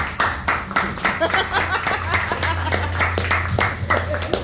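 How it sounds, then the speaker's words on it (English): A room of people claps in a loose, lively burst, with a few chuckles and voices scattered through the applause. "give yourselves a round of applause for being here"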